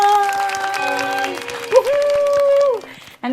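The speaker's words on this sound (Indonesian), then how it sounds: "Tepuk tangan dulu" Studio audience applause on an Indonesian talk show, a short burst of clapping mixed under a loud tonal music sting, cut off near the end, with a brief spoken word.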